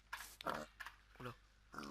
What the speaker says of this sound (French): Oh, j'ai entendu un cochon.